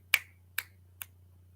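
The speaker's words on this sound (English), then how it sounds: "It should be me snapping my fingers." Three crisp finger snaps, evenly spaced about half a second apart, close and clear over a quiet low hum, each one slightly softer than the last.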